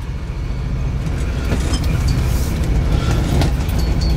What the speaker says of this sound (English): I'm going to take you for a ride in a 1971 restored Jeep Jeepster.